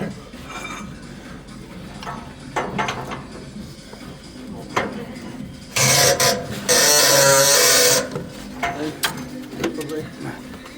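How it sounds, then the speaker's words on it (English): A 3/4 inch drive Milwaukee impact gun works in a railway restoration workshop on locomotive 34028 Eddystone, giving two loud sustained bursts of rattling hammering a couple of seconds long amid workshop clatter and voices. "This is the 3/4 inch drive Milwaukee impact gun that we are using"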